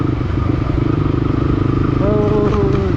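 A motorcycle is ridden in cold weather, its engine giving a steady close drone with a rising tone toward the end. The rider's voice is audible over the engine.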